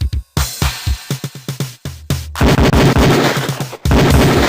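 Single Beretta pistol shots crack out one after another on a police firing range in Police Quest IV, sharp and loud in a steady rhythm, thickening into denser overlapping fire toward the end.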